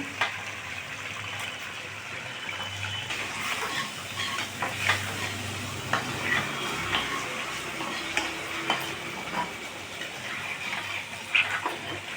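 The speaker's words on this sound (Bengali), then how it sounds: "এবার পটলগুলো দিয়ে দেওয়া হলো এর মধ্যে" Pointed gourd (potol) pieces tipped into a pan for a spicy Bengali doi potol curry and stirred, giving a steady low sizzle with scraping spoon strokes and small clinks throughout, no talking.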